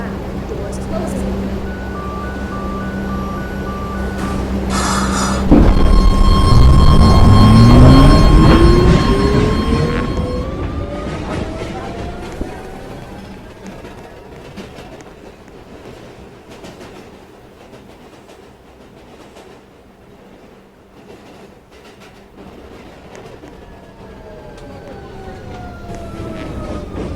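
An F subway train pulls away after its doors close, a loud rising electric motor whine sweeping upward over rumbling wheels and clatter, then settling into a steady ride noise that fades slightly and builds again.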